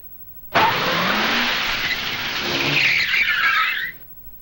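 A voice imitates a car engine, a single sustained roaring, revving rush about three and a half seconds long with rising and falling pitch, loud and close, starting and stopping abruptly.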